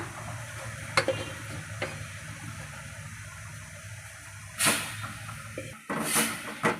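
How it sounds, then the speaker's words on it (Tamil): Mashed moong dal being stirred in a pan for a sweet kozhukattai filling, giving soft scraping and sizzling with occasional spoon knocks and clatter near the end, close by, with no talk. "பாசிப்பருப்பு போட்டு நல்லா மிக்ஸ் பண்ணலாம்."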